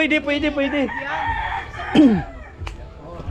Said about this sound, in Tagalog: Ayan yung mga alaga manok ni Papa, oh.